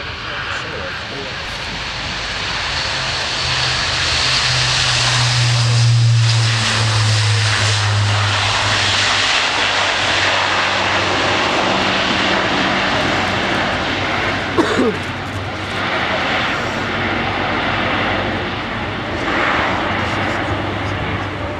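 An Airbus A400M military transport's turboprop engines drone loudly during an air display at RIAT, a sustained throbbing propeller roar that swells and holds steady, with people talking over it.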